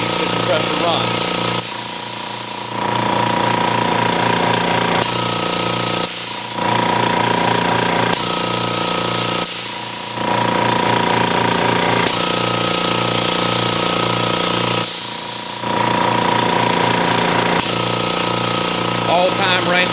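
An air compressor fitted with a Direct Air freewheel unloader valve runs with a loud, pounding, jackhammer-like chug, broken by short bursts of hiss every few seconds as pressure cycles, while someone speaks over it.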